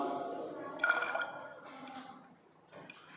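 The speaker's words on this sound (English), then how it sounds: "See, water is coming out from the snout." Water spilling from the spout of an overflow can into a measuring cylinder as a solid is submerged, a brief soft trickle under a voice that talks over it.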